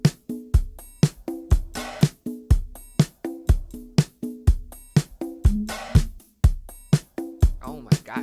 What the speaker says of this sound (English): So all the drums together, when you get to the chorus, sound like this.